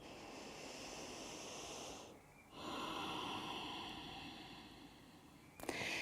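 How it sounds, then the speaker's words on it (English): A deep breath drawn during a slow Hatha yoga session, quiet airy inhale and exhale with a brief pause between, soft and close, no talking. "Take a deep breath."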